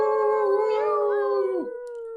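A long, sustained wolf-like howl imitated by human voices over microphones during an online group call, several tones overlapping and gliding together before fading into a single steady note.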